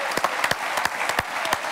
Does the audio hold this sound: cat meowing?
no